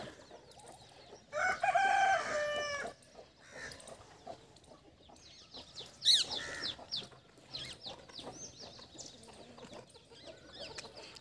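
Free-range desi roosters roaming an open poultry farm crow loudly once near the start, followed by scattered clucks and softer calls from the flock at moderate distance.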